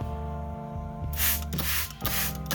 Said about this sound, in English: For humidity, we'll spray the tank down once every other day.